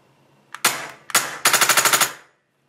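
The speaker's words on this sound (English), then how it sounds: "let's put it in full auto. Make sure it can keep up with the rate of fire." A Tippmann Phenom paintball marker fires two separate sharp shots, then switches to full auto for a rapid, even burst of about eight pops that cuts off cleanly, all close and loud.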